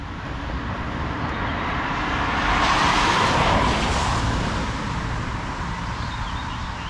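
Cars drive through a street intersection with a continuous roadway rumble, and one vehicle swells louder as it passes midway before the traffic noise settles back; nobody talks.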